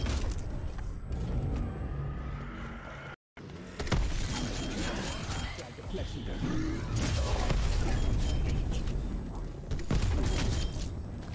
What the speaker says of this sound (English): War machine going out.